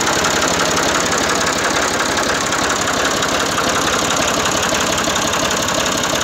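A 1981 IMT tractor engine idles close by, a loud, steady diesel knocking with rapid, even pulses that chug on without a break.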